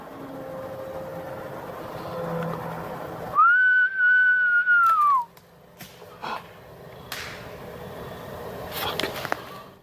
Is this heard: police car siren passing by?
no